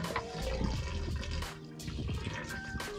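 Water gushes and splashes out of a newly bought boat's hull, about five liters draining in a continuous loud, sloshing rush with irregular splatters and drips, close by and without talk.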